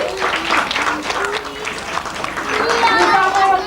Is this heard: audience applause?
yes